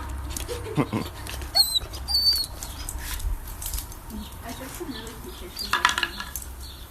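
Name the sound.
two-month-old Labrador German Shepherd mix puppy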